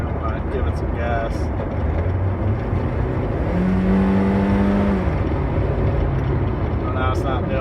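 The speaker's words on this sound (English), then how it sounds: "the rattling noise from the exhaust that I'm hearing when I give it some gas." A car engine revs up nearby, a loud, rough roar with a rattly edge from a rattling exhaust that swells briefly in the middle.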